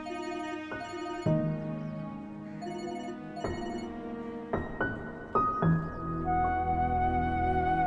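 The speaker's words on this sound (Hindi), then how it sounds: "बेटा तुम्हारा फोन बज रहा है।" A phone ringing with a melodic electronic ringtone in a domestic drama scene, a clear looping sequence of tones at moderate volume with no talking over it.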